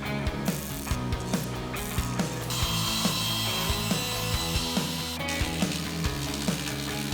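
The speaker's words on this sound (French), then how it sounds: "Nous utilisons une scie mécanique pour les couper de manière précise." Mechanical sawing through wood with repeated rhythmic strokes and clicks, a steady grinding whine rising midway, close and fairly loud with no talking.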